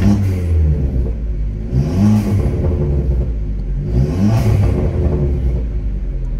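A Fiat Punto T-Jet turbo engine revs twice in a garage, each throttle blip rising and falling over a steady idle rumble, close and loud, with no talking.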